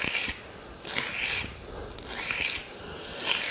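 A veneer saw bevel is honed on a sharpening stone in close, gritty rasping sweeps, three or four strokes separated by short pauses, with no talking over them.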